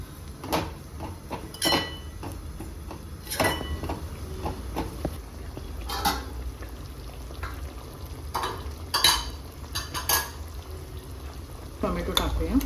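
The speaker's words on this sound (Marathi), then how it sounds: "आता आपण खोबरं टाकलेलं आहे ते सुद्धा चांगलं परतणार आहोत." Coconut and onion are sautéed in a pan for Kolhapuri chicken masala, giving a low continuous sizzle with repeated sharp spatula scrapes and knocks at irregular intervals throughout; no talking.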